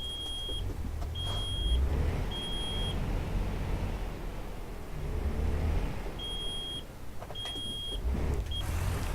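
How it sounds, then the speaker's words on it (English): Truck reversing beeper in American Truck Simulator, a series of sharp repeated electronic beeps in short bursts over a low engine rumble, with a pause between groups. "Beep, beep, beep, beep, beep."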